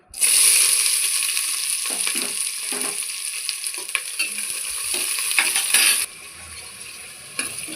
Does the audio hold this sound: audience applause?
no